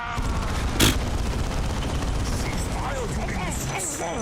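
Dense, continuous gunfire fills a Warhammer 40k animation, with one sharp louder blast early on and indistinct voices mixed into the battle noise.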